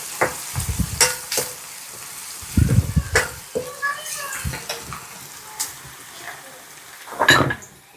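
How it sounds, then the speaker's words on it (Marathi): Garlic dropped into hot oil for a spinach dal tempering over a wood-fired stove crackles and sizzles close by, with intermittent stirring scrapes and clanks throughout. "मस्त असा तडतड आवाज येऊ द्यायचा। नंतर टाकायचा लसण"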